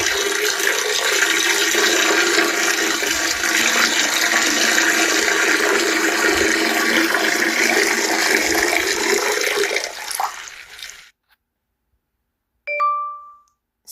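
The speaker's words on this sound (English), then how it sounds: "This sound effect is only used for my OCs and characters when they pee in the toilet." Urinating-in-a-toilet sound effect: a steady, loud hissing splash of liquid into water runs unbroken for about ten seconds, cuts off, and is followed after a short pause by a brief bright chime.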